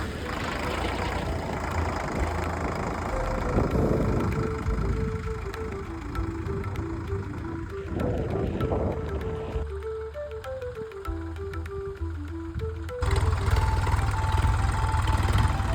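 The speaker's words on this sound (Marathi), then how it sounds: "नंतर मी सुद्धा ट्रॅक्टर चालून पाहिला" A tractor engine running as it is driven on a farm, a low steady rumbling drone with a faint tonal whine wavering over it, close and continuous, with a harsher louder stretch toward the end.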